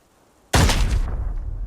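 A grenade explodes in the Arena Breakout video game: a sudden, loud, close blast after brief quiet, followed by a sustained rumbling roar that slowly fades.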